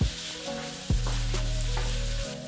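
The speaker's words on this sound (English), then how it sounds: "I'm going to add in our spring onion and our chili. You hear that sizzle sound?" Spring onion and chili sizzle and crackle in hot oil, a loud steady frying hiss with a fresh burst as more ingredients hit the pan.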